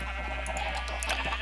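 Sheep in Minecraft bleating in a short burst of a few wavering calls, close and moderately loud over a steady low background hum, with no talking.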